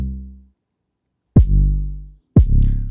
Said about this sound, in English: combining with the kick, the 808 sounds like this